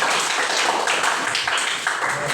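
A class of students applauds after group presentations, giving a brief burst of close, scattered clapping with uneven individual claps.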